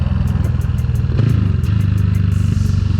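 A 125cc motorcycle ridden at full throttle gives a loud, steady engine drone that rises in pitch partway through and holds high to the end, with no voices over it.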